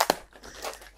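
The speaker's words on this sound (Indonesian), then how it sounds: "siapa yang suka dengan suara lakban ya?" Packing tape pulled off a roll for wrapping an online-shop parcel gives a quick crackling rip with a sharp snap at the start, brief and close.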